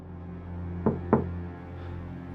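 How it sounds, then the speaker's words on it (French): Two firm knocks on a door, about a quarter second apart, close and clear over a low steady hum, with nothing else around them. "Vous entendez quelqu'un toquer à la porte."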